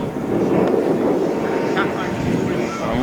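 A 3D-printed Cessna DragonFly RC model airplane flies overhead, its steady motor drone mixed with heavy wind buffeting on the microphone, loud and continuous throughout.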